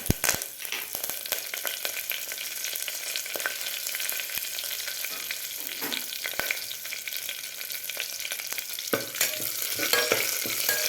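Cumin seeds, green chillies and curry leaves fry in hot oil in a pan, a loud, steady sizzle thick with sharp crackles and pops running throughout.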